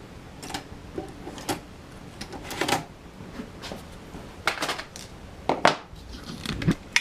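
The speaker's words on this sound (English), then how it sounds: "Typically it would eject the disk, but I have to use my technique with the pliers here." A floppy disk is worked out of an original Macintosh 128k with pliers, a string of sharp metallic clicks, taps and scrapes coming irregularly, close and fairly crisp, with short pauses between.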